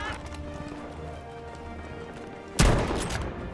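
Gunfire in the Battlefield V video game, a rapid patter of distant shots followed by a sudden loud close blast and rumbling tail near the end.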